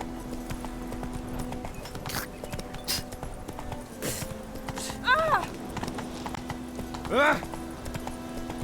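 Horse in The Witcher 3 video game, soft clip-clop hoofbeats under game ambience with two short whinnies, fairly quiet, with a voice speaking.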